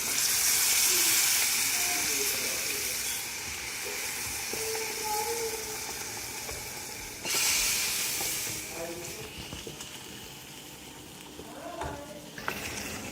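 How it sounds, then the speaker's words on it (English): Hot tadka poured into Puliyogare gojju sizzles loudly, a bright hissing burst that fades, then flares again halfway through before settling into a softer crackle. "it's time to add the tadka"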